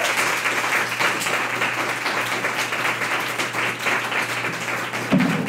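An audience applauds to welcome Douglas Kearney, a dense, steady wash of clapping from many hands filling the room throughout, with a slight bump near the end.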